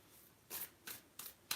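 Large oracle cards shuffled by hand: four soft, crisp riffling bursts in a steady rhythm, close by but quiet against a faint room hush.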